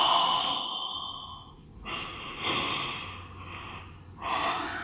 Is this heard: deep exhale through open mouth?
yes